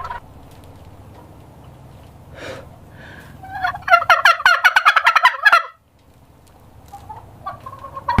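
Turkeys on a farm gobble in a loud, rapid, warbling burst from a single nearby bird, with scattered softer calls before and after over a low ambient hum.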